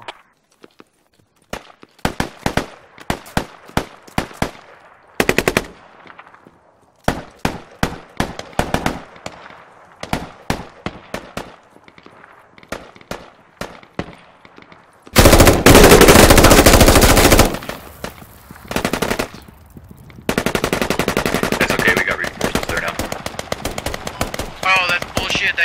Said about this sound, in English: That guy took 3/4 of my mag right into his chest and he didn't go down.